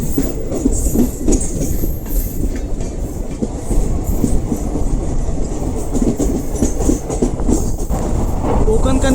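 Latur–Mumbai Superfast Express (22108) running, a steady loud rumble of carriages with rhythmic clickety-clack of wheels over rail joints and occasional squeals, heard from inside the train throughout with faint voices in the background.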